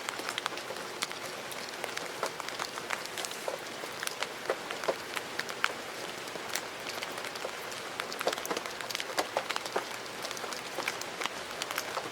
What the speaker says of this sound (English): I'm getting a lot of rain here in the car